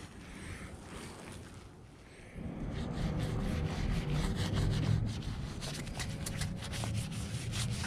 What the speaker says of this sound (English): Washing the roof first.